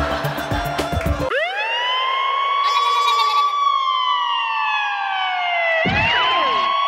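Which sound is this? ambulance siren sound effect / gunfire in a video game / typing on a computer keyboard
ambulance siren sound effect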